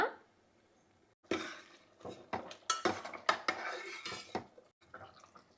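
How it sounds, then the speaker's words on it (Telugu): A spoon clanks and scrapes against a metal pot while egg pulusu curry is stirred, a burst of irregular metallic knocks and clinks after a quiet opening, close and fairly loud. "మధ్య మధ్యలో ఒకసారి అలా కలుపుకుందామండి"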